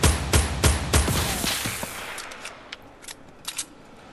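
Gunfire exchange in Fortnite Battle Royale: a rapid string of loud, sharp shots at the start, then more scattered, fainter cracks and pops trailing off into the distance, with no talking.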